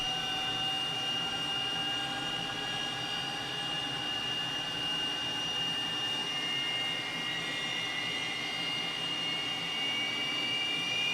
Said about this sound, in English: Sounds like we're well on our way to a successful engine start 2 with engine number 2